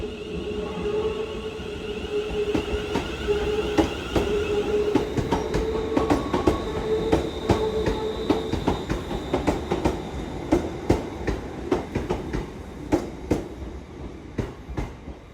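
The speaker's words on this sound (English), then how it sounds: "Where the train now departs to Glasgow Central" A train departs Gourock station in Scotland bound for Glasgow Central, rolling with rhythmic clickety-clack of wheels over rail joints, a steady hum and squeal fading as it moves away.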